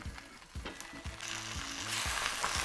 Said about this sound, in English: We're going to saute some spinach, carrots, portobello mushrooms, and baked savory tofu.